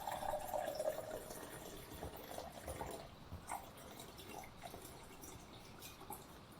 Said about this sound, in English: now we're just going to add water